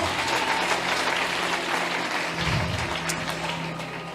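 A church congregation at a French-speaking worship service applauds steadily and loudly, the clapping forming a dense, continuous wash for about four seconds before easing slightly at the end.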